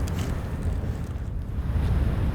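Steady wind rushes and buffets against the microphone on winter ice at Lake Inari, Finland, a loud continuous low roar with no voices.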